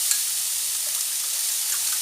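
A water, starch and soy sauce mixture sizzles steadily in a pan with diced red pepper, a constant bright hiss and crackle with no talking.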